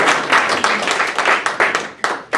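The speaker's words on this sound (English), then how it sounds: "I'd like one round of applause for last year's officers" A banquet crowd at a Kiwanis officer installation claps for outgoing officers, a short burst of dense hand claps, close and lively, over about two seconds.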